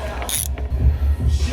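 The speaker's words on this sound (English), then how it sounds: "This little ratchet has come in so handy with the swivel head." A small swivel-head ratchet wrench clicks in a few quick bursts during work on an old engine, close and mechanical, with a brief metallic rattle between the strokes.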